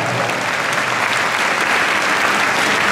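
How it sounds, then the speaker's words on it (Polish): A concert audience breaks into loud, dense, continuous applause for a choir at a radio station's 25th anniversary concert, a close and even roar of clapping with no gaps. "na cały głos gromkie brawa dla wspaniałej ekipy, którą zarządza dyrygentka"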